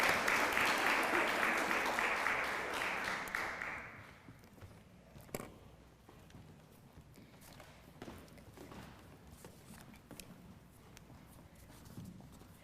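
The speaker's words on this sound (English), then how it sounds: "if you'll give them some applause" A seated audience at a panel event applauds as the panelists walk up to the stage, a dense, loud burst of clapping that fades out after about four seconds, giving way to quieter room sounds.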